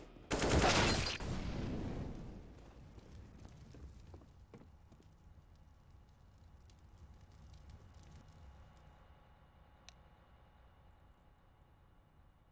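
Video game gunfire from a player shooting at his own team, a loud rapid burst of automatic fire right up close, then fading into quieter scattered shots and background noise.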